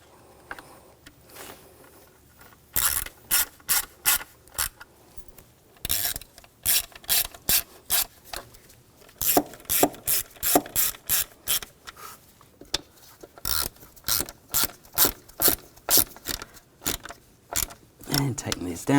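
A ratchet clicks in quick repeated bursts while tightening the connector screws on the crankcase breather hose of a 2000-2006 BMW X5 3.0L, sharp rhythmic pawl clicks close up, separated by short pauses.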